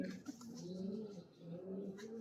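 Pigeons cooing nearby, a few soft throaty rolling coos in quick succession, fairly faint.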